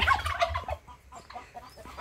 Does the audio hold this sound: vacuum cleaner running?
no